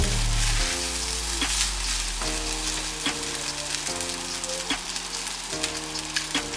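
Garlic fried rice with fish sauce, sugar and white pepper crackles and sizzles steadily in a hot pan, with tossing and stirring scrapes over the continuous frying hiss and a musical tone underneath.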